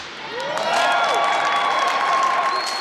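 A large crowd at an Air Force drill team performance claps and cheers steadily throughout, with whistles and shouts rising over a dense wash of applause.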